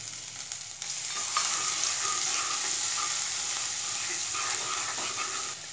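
Garlic-chili paste, cumin and asafoetida frying in hot oil, a loud steady sizzle with hissing crackle that jumps up sharply as the paste hits the pan and then holds, close and without voices.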